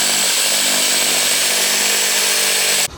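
A power saw buzzes steadily and loudly through a Sprinter van's metal wall while cutting a window opening, a continuous close whine that stops abruptly at the end.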